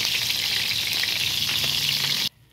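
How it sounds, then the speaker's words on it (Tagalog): Loud, steady sizzling of small fish frying in hot oil, a dense crackling hiss that cuts off abruptly near the end. "Ayan ang prito natin guys."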